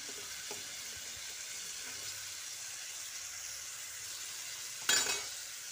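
Boiled chickpeas being stirred with spices and a splash of their cooking water, a steady soft sizzle and hiss throughout with a brief louder scrape of the spoon near the end.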